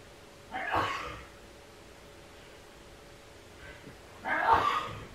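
A man sneezes twice, two sharp bursts a few seconds apart, fairly close against a quiet room with a faint steady hum.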